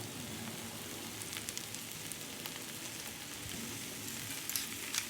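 Sliced mushrooms fry in a pan, a continuous hissing sizzle at moderate level, close and steady throughout, without talk.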